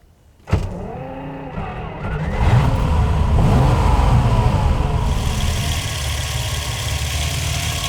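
A rebuilt 1960s Ferrari V12, from a 330 GT 2+2 or 365 GT 2+2, starts with a sharp crank, settles into a steady idle and then revs up into a loud, sustained run.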